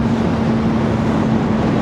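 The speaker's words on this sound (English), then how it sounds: "we're giving it a bit of rev" Engine of a 2025 Kawasaki ZX-4RR sport motorcycle held at high revs, a loud, steady, buzzing whine with a constant pitch, close and unbroken throughout.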